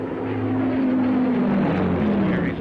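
Heinkel 111K aircraft engine drone in 1943 wartime documentary footage, a steady loud propeller hum with sustained low tones that slowly shift in pitch, with no speech over it.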